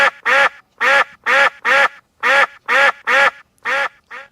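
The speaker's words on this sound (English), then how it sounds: "this is our quacking duck" A quacking duck sound effect, loud and close, repeating about nine nasal quacks in an even rhythm with short gaps between them, heard alone.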